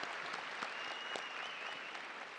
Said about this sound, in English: So can everyone give a round of applause to them?